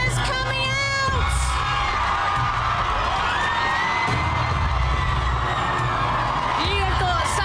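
A massive crowd of fans cheering, whooping and shouting outdoors, loud and continuous, with voices talking over the din.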